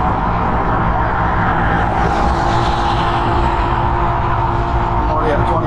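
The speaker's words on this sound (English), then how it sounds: "Second gear, dual motors." A DDC Sport G63 off-road electric scooter with full suspension runs on dual motors in second gear, giving a loud, steady whir blended with constant wind rush and rolling noise throughout.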